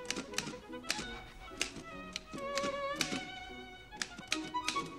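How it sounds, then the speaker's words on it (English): Typewriter keys clacking in an irregular run of sharp strikes, with bell-like ringing and a carriage thunk, heard in a film scene under faint background music. "Typing, obviously."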